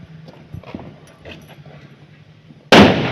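A Diwali firecracker bomb goes off with a single sudden, loud, sharp blast near the end, after a few seconds of quiet background voices and movement.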